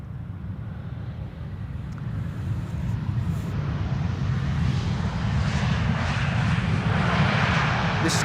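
A KLM jet airliner arrives at Amsterdam Schiphol, its engine roar steady and building over several seconds, broadband and fairly close.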